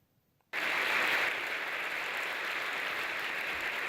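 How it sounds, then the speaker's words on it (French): Loud, sustained applause from regional council majority members at a council session, starting abruptly after a short silence and continuing steadily as a dense wash of clapping with no voices. "Sous les applaudissements des élus de la majorité"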